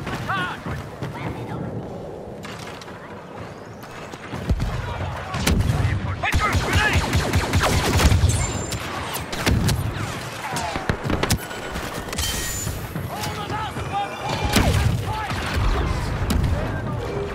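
Heavy ion disruptor fire hits a transport during Star Wars Battlefront II gameplay on Kashyyyk, with dense rapid blasts, booming explosions and chaotic battle noise that stay loud throughout, while voices call out over the action.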